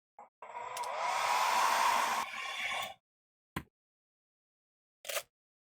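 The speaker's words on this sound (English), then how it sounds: "So let me use a hairdryer to usually heat everything so that it makes it a little softer" A hair dryer heating 3D print supports to soften them blows steadily for about two seconds with a whooshing hiss, then shuts off, followed by two brief clicks.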